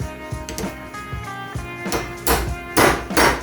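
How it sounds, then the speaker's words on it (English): A metal pin being hammered through a snow blower bracket during an engine swap, a series of sharp, irregular metallic blows that grow louder toward the end, close by. "we can take our pin and hammer it through like it was before"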